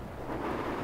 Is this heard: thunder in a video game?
yes